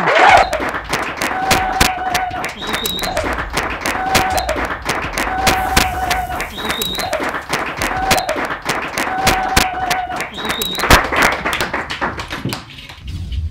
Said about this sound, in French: le pasteur Francis Tinona, que nous allons recevoir sous vos acclamations